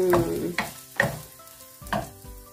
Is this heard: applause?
no